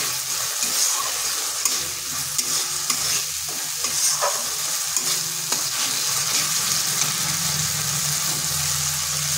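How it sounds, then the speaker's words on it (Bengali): Pre-fried papaya and potato pieces being stirred and sautéed with spices in a pan, continuous sizzle with repeated scraping and stirring clatter close by, no talking. "দিয়ে দিচ্ছি ভেজে রাখা পেঁপে আর আলু। এরপর মশলার সাথে ভালোভাবে কষিয়ে নিচ্ছি।"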